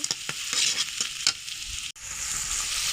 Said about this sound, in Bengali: তেল আর পেঁয়াজ একসাথে ভেজে নেব, ভেজে একটু লাল লাল করে নেব।